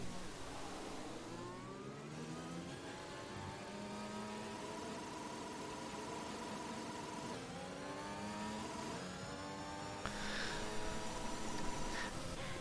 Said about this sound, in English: Plevs there doing his classic revving to try and burn as much fuel as